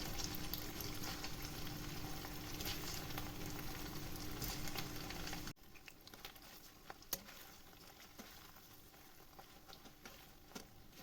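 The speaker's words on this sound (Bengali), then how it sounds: "তো পনিরগুলো আমি হালকা করে ভেজে নেব, খুব বেশি ফ্রাই করব না" Cubes of paneer fry lightly in hot oil with a dense, crackling sizzle that fills the first half, then cuts off abruptly. After that only a quiet background remains, with a few faint clicks and taps.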